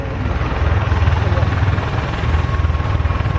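A continuous loud roar fills the air as an Avro Vulcan bomber banks into a tight curve and lines up with the runway at the Farnborough Air Show, steady and powerful with no break.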